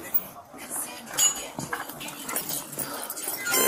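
A dog at a house during a police arrest makes brief sounds amid people talking nearby, with light clinks of dishes or metal in the background.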